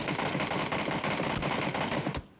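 Automatic gunfire in the PUBG battle royale game rattles in a fast continuous burst for about two seconds, then cuts off abruptly; no one speaks.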